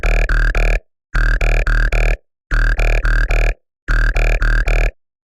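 Jump-up drum and bass frog bass from a Serum synth, layered with a sub, croaks in loud, gritty, burp-like stabs grouped in bursts of three and four, separated by short silences.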